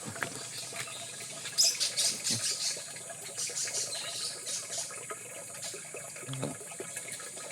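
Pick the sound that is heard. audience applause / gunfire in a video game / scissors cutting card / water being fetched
water being fetched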